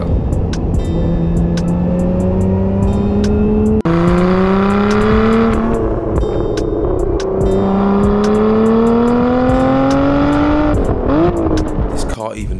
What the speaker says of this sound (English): This car even sounds good when you miss a gear.